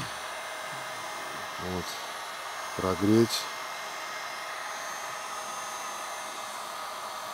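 A Hyundai H 2200 Expert heat gun, a construction hot-air gun with an LCD display, runs with a steady airy hiss throughout. Someone speaks briefly over it.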